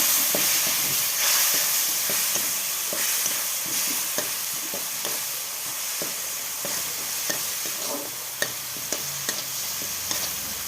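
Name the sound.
sautéing spice paste (masala) in a pan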